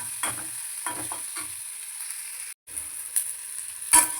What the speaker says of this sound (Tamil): ஒரு மாதிரி வெங்காயம் லைட்டாக கொஞ்சம் எண்ணெயிலே வதங்கின பதத்தில்